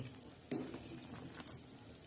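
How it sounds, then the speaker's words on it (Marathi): Brinjal and Bombay duck (bombil) curry with ground black masala bubbling in a pot, a steady soft sizzling simmer close by with a couple of brief louder stirring clatters. "हे बघा आता याला मस्त उकळे आलेले आहे हे बघा वांगे आणि बोंबील मस्त छान असे शिजत आहे"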